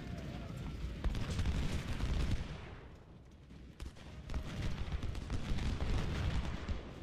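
Cannon fire in the Civil War strategy game Ultimate General: Civil War, a continuous rumble of booming artillery and gunfire that dips briefly midway, then swells again.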